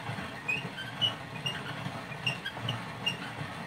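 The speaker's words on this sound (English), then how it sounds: "And yes, it makes this nice squeaky noise." A malt mill crushes brewing malt with a low grinding rumble, over which high, thin squeaks recur every half second or so at moderate volume, with no speaking.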